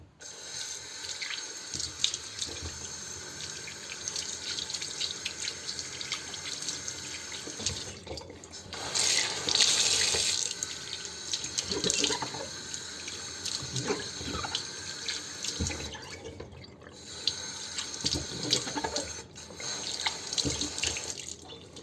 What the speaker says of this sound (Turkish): musluğu güzelce yıkayacağım